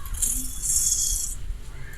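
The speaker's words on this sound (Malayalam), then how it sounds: "നമ്മുടെ കടുക് പൊട്ടുകയാണ്" Mustard seeds pop in hot coconut oil with a bright, crackling spatter of tiny pops, close up, in two short bursts, with no talking.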